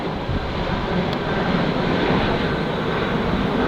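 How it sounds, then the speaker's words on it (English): A plane passes overhead outdoors, a continuous broadband engine roar that holds steady and slightly swells over a few seconds, heard alone without talk. "Just wait for this plane"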